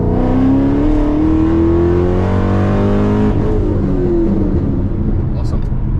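A 5th-gen Chevrolet Camaro ZL1 V8, fitted with upgraded fuel injectors, roars at full throttle, its engine note climbing steadily through the gears with a brief shift pause, loud and close throughout.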